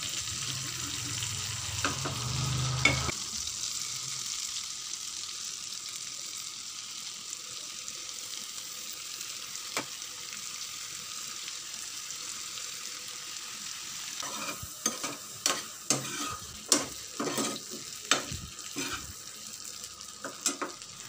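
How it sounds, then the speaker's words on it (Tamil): Prawns fry in oil in a pan with a soft, continuous sizzle, followed later by a series of light metallic clinks and scrapes of a utensil against the pan. "மீதம் இருக்கிற பிரான்ஸ் எல்லாத்தையும் எண்ணெயில் போட்டு நல்லா ஃப்ரை பண்ணி எடுத்து வச்சுக்கலாம்"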